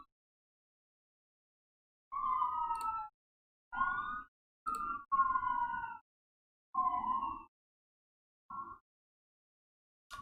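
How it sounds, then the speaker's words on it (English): Emergency vehicle sirens pass through Newark, faint and distant wailing tones sweeping up and down in separate bursts with quiet gaps between them. "I hear the sirens coming all the way."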